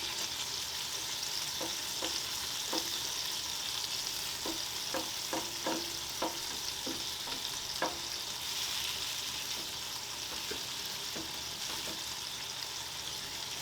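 Potatoes fry on a Blackstone E-Series 17-inch tabletop griddle beside smashburgers, a steady close sizzle running throughout with scattered light scraping taps from a spatula and no talking.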